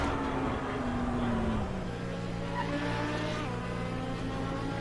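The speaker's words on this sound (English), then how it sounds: "Why can't I stop the engine?" Race car engine idling in the video game Assetto Corsa Competizione at Zolder: a constant droning hum that holds steady, with a falling tone early on and no talking.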